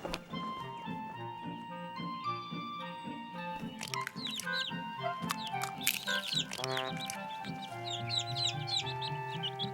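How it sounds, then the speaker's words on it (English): Chickens cluck and other birds chirp in a cartoon scene, rapid bright peeps and clucks layered over a backdrop of soft music, fairly faint throughout. "There were birds,"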